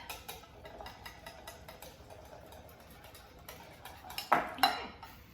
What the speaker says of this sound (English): I'm gonna whisk up our wet ingredients just a bit.